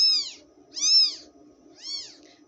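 A newborn kitten gives three loud, high meows, each about half a second long and close by, separated by short pauses with faint background hum.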